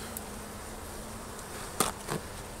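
Honey bees buzzing around a hive as colonies are merged, a faint steady hum close by with a couple of brief louder passes of single bees near the end, and no talking.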